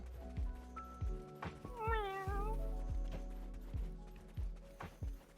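A cat in a video game gives one drawn-out, wavering meow in the middle of the clip, set against a steady rhythmic thudding and clopping that recurs about once a second, with faint background tones.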